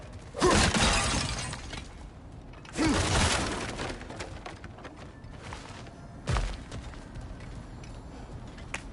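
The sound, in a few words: smashing breakable objects in God of War Ragnarök video game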